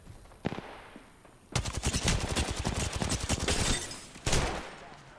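Rapid bursts of video game gunfire, dense automatic shots rattling continuously after a quieter opening with a few isolated cracks, loud and close, with a final heavy burst near the end.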